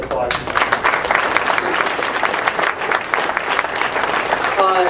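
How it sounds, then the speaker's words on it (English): An audience at a First Amendment awards event breaks into steady, sustained applause, dense clapping filling the room from start to finish. "we should applaud him"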